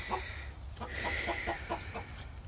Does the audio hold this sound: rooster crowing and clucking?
yes